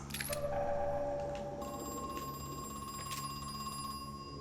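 A telephone rings in the horror video game Crow Country, with repeated faint electronic trills over a steady low hum and ambient game drones, no talking.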